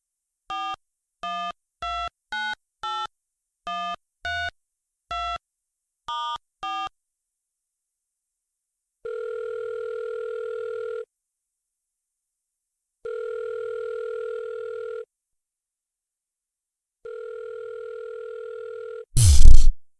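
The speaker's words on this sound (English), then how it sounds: "picks up the phone, and dials the number" A phone number is dialled as a quick run of about ten touch-tone beeps, followed by three long, evenly spaced ringback tones and an abrupt clunk as the line is picked up.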